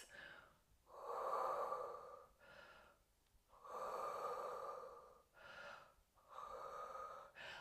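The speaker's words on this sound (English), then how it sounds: "3 deep breaths." Slow, deep breaths during an intermediate at-home Pilates session, three long audible inhale-exhale cycles with soft sniffing and airy exhales, close and quiet.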